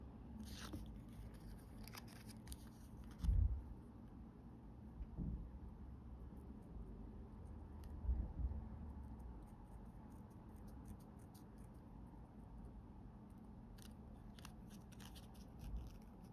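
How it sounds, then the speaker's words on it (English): Scissors snip and cut in short bursts, a few louder clipping crunches standing out against a quiet, steady room background. "Do it with scissors."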